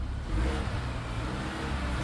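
A 2024 Chevrolet Colorado ZR2 pickup engine revs up close and fairly loud, a steady rumbling drone that swells slightly and holds without any talk over it.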